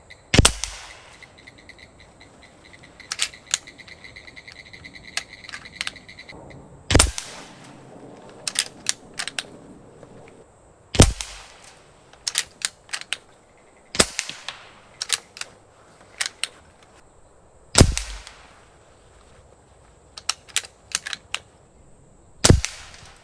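HP Max airgun fired repeatedly at a center target, each shot a sharp, loud crack standing alone, spaced irregularly several seconds apart with faint handling noise between.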